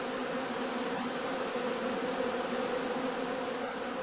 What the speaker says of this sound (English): bees can still be seen flying